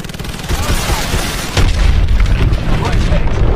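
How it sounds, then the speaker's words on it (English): Missile strikes blowing up the hard points of a hydroelectric dam in Call of Duty: Advanced Warfare: loud, continuous rumbling booms with a heavier blast hitting midway, set against dense battle noise. "Lock onto those hard points and hit them with your missiles"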